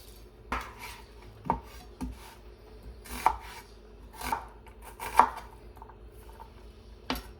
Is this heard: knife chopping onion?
yes